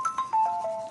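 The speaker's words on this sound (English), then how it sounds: "I think it turned it down for quite a few notifications, but apparently not that one." Short phone notification chime, a quick series of bright tonal pings settling into a held tone, faint and heard alone.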